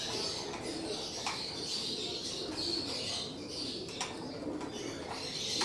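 Young pigeons at a loft landing board flap their wings in quick bursts and coo softly under a steady bed of chirps and rustling, fairly close and continuous.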